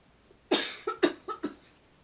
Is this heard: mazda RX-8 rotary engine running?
no